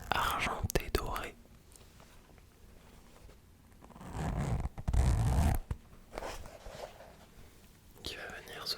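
Zipper with a silver-gold chain pulled open along the length of a leather toiletry bag, a close, soft rasp heard in short bursts with a longer louder pull near the middle, amid quiet whispered speech.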